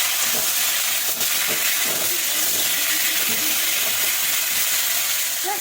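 Vegetable stalks frying with turmeric and salt, a loud, continuous sizzle with scattered crackles and a few stirring scrapes throughout, and no voices.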